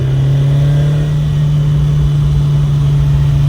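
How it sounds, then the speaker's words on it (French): A legendary Renault 5 Turbo rally car's engine drones loudly and steadily from inside the cabin, a constant, even mechanical roar with no breaks. "Et le turbo se déclenche pas mal, ouais"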